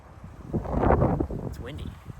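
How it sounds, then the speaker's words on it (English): Wind buffets the microphone in low rumbling gusts while a person speaks. "it's windy. I hope this isn't super windy on the audio"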